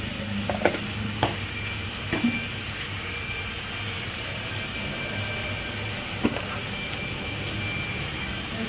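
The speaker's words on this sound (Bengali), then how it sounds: "এবার এটাকে একটু কষিয়ে নিই ভালো করে" Chicken in spiced masala with a little sugar sizzles steadily in a pan on a home stove, a close, continuous frying hiss broken by a few faint clicks of stirring.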